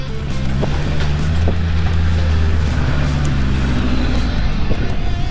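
A car climbing over a tight gate and through a stream on a North Wales country lane, a loud, steady low engine drone with rumbling and splashing texture throughout, heard up close.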